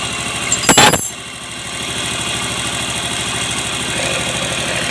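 A motorcycle engine idles nearby with a steady, rapid chugging pulse and slightly uneven, spitting sputters, after a brief sharp metallic clank at the start.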